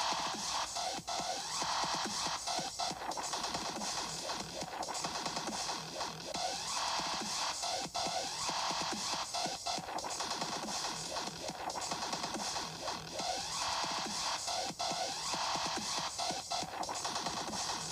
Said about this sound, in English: And now here's the sound of the Air Island,